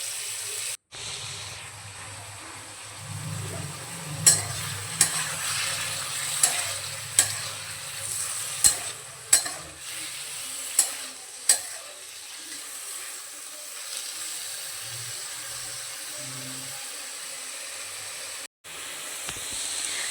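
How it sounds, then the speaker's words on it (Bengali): Shrimp sizzle steadily in hot oil in a kadai, a continuous frying hiss broken by a series of sharp spatula taps and scrapes against the pan, close and fairly loud with no talk. "তেলটা ভালো করে গরম করে নিয়ে চিংড়ি মাছগুলো দিয়ে দেবো। মাছগুলো খুব বেশি ভাজার প্রয়োজন নেই, 2 পিঠে লালচে ভাব ধরলেই হবে।"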